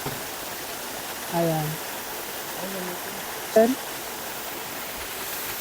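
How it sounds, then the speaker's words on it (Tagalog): Edralin Falls waterfall in Kasibu, Nueva Vizcaya, running shallow in summer: a steady, even broadband rush of falling water throughout, with a few short bursts of nearby speech on top. "So ito yung falls."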